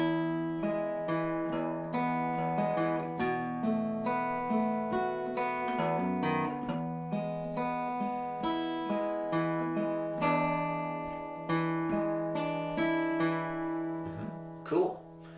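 Fingerpicked acoustic guitar playing a four-measure passage: steady alternating thumb and finger plucks in an even rolling pattern, close and clear, with ringing sustained notes and a brief louder accent near the end.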